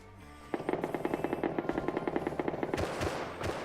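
Semi-automatic rifle fire rings out in a video game firefight, a rapid, evenly spaced string of roughly fifteen sharp shots, fairly loud and close, before trailing into scattered noise.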